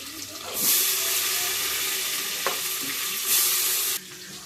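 Chopped onion sizzles loudly as it hits hot oil with crushed ginger and garlic, settling into a continuous frying hiss, swelling again near the end before dropping abruptly, with a faint clink of a utensil midway.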